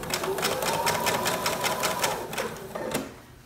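A sewing machine stitches a fully lined baby romper, a close rapid mechanical rattle of needle strokes running evenly, then slowing and stopping near the end.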